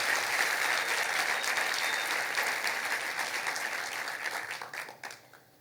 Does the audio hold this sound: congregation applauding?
yes